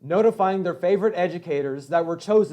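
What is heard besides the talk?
None of the usual background noises is heard.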